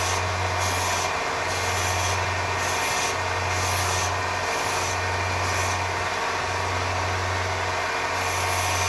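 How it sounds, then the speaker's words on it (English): A 1x30 belt sander rounding off resin and honeycomb handles makes a continuous loud whirring drone with a rhythmic pulsing hum, close up and steady throughout, with no voices. "sander out now, the 1x30, because it's a bit more gentle, and we'll just round these off"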